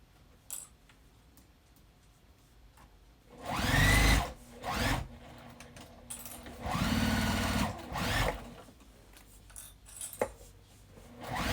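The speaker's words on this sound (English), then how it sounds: "we're going to just stitch this at the seam allowance the pattern calls for" Sewing machine stitching a seam on a quilted jacket of patchwork fat quarters, two bursts of close, steady whirring of several seconds each, separated by quiet handling clicks.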